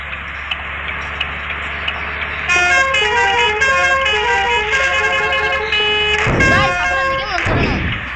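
A vehicle horn blares in one long, loud sustained honk amid road traffic noise, followed by whooshing vehicles passing close by.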